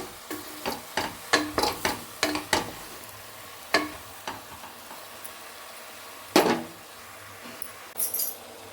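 A spoon stirs brinjal curry in a pan, giving a run of sharp metallic scrapes and clinks, fast at first and then spaced out, over a soft sizzle, with no one talking.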